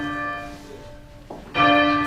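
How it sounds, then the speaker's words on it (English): A church bell weighing up to a ton swings and rings in a Cambridge tower, its ringing tone fading out before a new loud strike near the end. "The bells here weigh up to a ton and swing with huge momentum."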